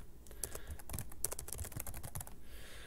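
Rapid keystrokes rattle on a computer keyboard in a dense, uneven burst of crisp clicks heard up close, stopping abruptly near the end.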